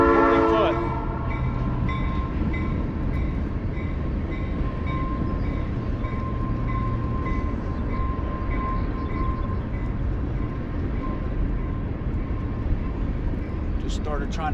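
Train rolling past near the Ohio River during a fishing trip, a steady loud rumble throughout with a horn blast at the start, heard from a boat.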